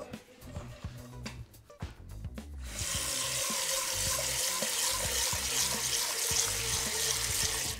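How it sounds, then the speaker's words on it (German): Water pours steadily and loudly into a large pot holding ginger cut into sticks, a continuous splashing rush that begins a few seconds in after some quiet kitchen clatter. "Dann tue ich da 200 Milliliter Wasser drauf."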